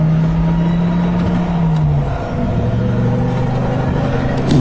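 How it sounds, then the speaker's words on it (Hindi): A car in a Hindi horror story starts moving on its own, its engine humming steadily and then shifting to a rougher, rising drone as it pulls away, loud and close throughout with no voices. "अब गाड़ी अपने आप चलने लगती है।"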